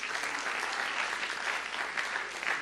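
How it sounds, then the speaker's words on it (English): A seminar audience at a 2014 entrepreneurship event claps for a speaker, a dense, steady round of applause throughout with no voices over it. "Let's give Dr. Khor another round of applause for the very interesting sharing."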